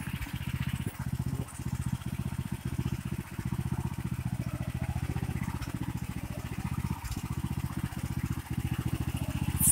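An MTZ walk-behind tractor engine runs close by with a rapid, steady single-cylinder chugging that holds throughout, loud and without talk.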